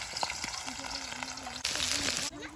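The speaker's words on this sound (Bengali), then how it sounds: "তেলের মধ্যে পেঁয়াজ দিয়ে দেবো" Soft crackling sizzle of frying in hot oil, getting louder partway through, with a faint voice murmuring underneath.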